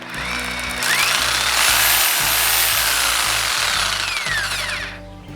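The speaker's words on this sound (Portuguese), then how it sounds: "eu dou um pouquinho do gatilho, ó, ela mexe devagar" A reciprocating saw runs slowly on a light trigger pull, a close, loud, steady mechanical buzz with a rising and falling whine that continues unbroken for several seconds.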